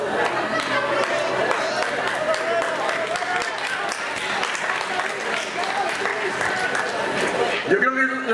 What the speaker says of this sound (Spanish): Yo creo que es la primera vez que aplauden a un electrón